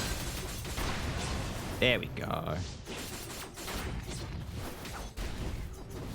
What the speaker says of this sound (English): All of these enemies are blowing up